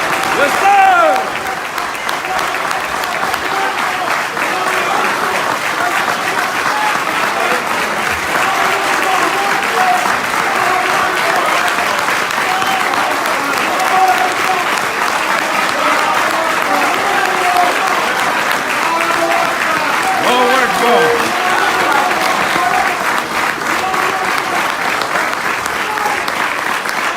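Steady, loud applause from a large audience welcoming Dr. Ava Muhammad at a Nation of Islam gathering in Los Angeles, sustained and dense for the full stretch with no break.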